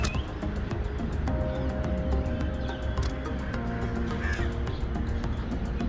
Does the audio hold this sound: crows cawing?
yes